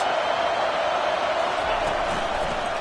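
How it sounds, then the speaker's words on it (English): A college football stadium crowd at a Nebraska at Iowa game keeps up a dense, steady roar at constant loudness, a broad wall of noise that fills the whole moment. "It is getting loud as this crowd tries to help its defense."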